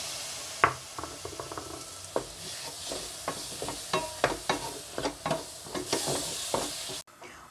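Chopped tomato being stirred into spice powders frying in a pan for Kerala-style aloo palak, with a steady sizzle under frequent clicking spoon scrapes and taps against the pan, nearby and unaccompanied.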